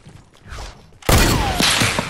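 A single loud gunshot in Fortnite cracks sharply after a quiet moment, followed by a ringing, echoing tail and faint mechanical clicks.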